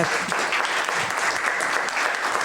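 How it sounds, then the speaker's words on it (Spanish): A closing round of applause from the audience at an academic conference panel on gender, feminisms and critical interculturality at a university; dense, even clapping, loud and sustained throughout the short stretch. "si quiere pues damos un aplauso final para terminar esta mesa"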